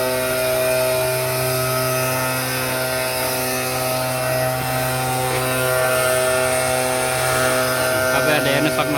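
A leaf-clearing machine sweeping fallen leaves in a garden, running as a loud, steady motor drone with a strong tonal hum throughout and a person talking over it.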